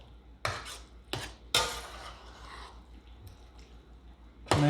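Water being stirred into a rice casserole with pickled cabbage in a pot: three sharp scraping clinks of a spoon against the pot, then a softer wet shuffle and a final knock.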